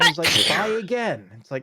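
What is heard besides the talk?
sneeze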